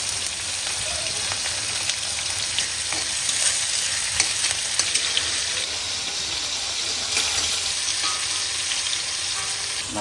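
Onions drop into hot oil in a pan on a home stove and sizzle loudly and continuously, a dense, close frying hiss with occasional sharper pops.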